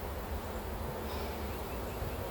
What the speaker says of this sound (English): There's just too many bees in here.